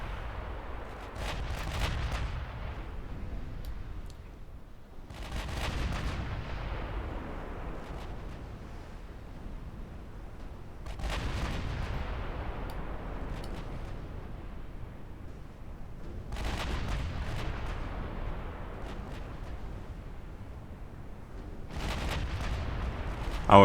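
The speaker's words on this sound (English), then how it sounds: "Oh, we're firing AP shells." Naval guns firing armour-piercing shells in a video game, heavy booming salvos roughly every five to six seconds, each with a long rumbling decay between shots.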